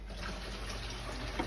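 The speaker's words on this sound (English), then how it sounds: "Just going to run the hot tap." A domestic hot water tap on a Potterton boiler system running steadily, a continuous close hiss of flowing water with no variation over the short stretch.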